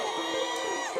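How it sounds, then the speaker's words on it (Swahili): A church congregation breaks into loud cheering and high, warbling ululation, a dense close chorus of excited voices sustained through the brief moment. "Wapi shangwe na vigelegele."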